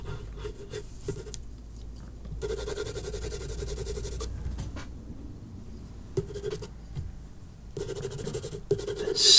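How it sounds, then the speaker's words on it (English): A 2B graphite pencil shades on paper in a portrait drawing, with soft rasping strokes in bursts separated by brief pauses, close and quiet throughout. "I'm actually going to see if we can get away with just using a 2B pencil"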